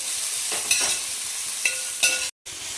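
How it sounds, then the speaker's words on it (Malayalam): Chopped onions, three large ones, stirred in a hot pan for chicken dhopyas, a steady frying hiss broken by a few scraping spoon strokes, close and alone with no voices. "ഇതിലേക്ക് വലിയ 3 സവാള അരിഞ്ഞത്, ഇളക്കി കൊടുക്കാം."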